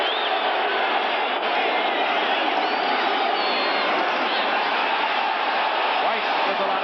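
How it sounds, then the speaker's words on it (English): Dense stadium crowd noise fills the stands at an NFL game between the Dallas Cowboys and New York Giants, a steady, loud roar that never lets up and carries the faint rise of cheers. "Crowd getting into it once again."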